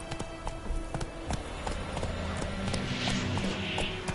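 Horse galloping in The Witcher 3, a quick rhythmic clatter of hooves close by, running steadily for a few seconds with faint background ambience.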